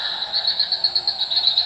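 Frogs calling at a fish pond, a steady run of rapid, pulsing croaks repeating several times a second at close range, with no voices.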